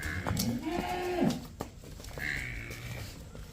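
A buffalo lets out a deep, drawn-out low, then a second shorter call, fairly close.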